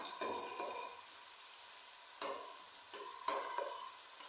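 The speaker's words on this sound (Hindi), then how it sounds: "टिप यही है कि आपने प्याज को अच्छी तरह ब्राउन करना है" Onions sizzle in a pan as they brown for a Lahori-style chana dish, with a steady frying hiss broken by a few louder stirring scrapes, close and moderate in level, no voices.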